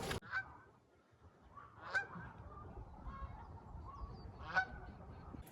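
Laying hens roam evening pasture around a mobile eggmobile coop, giving three loud honking calls spaced a couple of seconds apart over a low, steady outdoor background.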